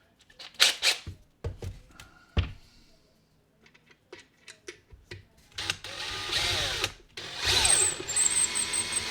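A power drill runs in short bursts driving screws into a hot tub pump during a seal replacement, with clicks and handling noises between, then a longer whirring run near the end.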